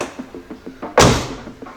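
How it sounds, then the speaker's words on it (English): A BMW E36 race car door, stripped interior, swings shut with one loud, solid thud close by, after a few soft knocks and rustles. "Close the door."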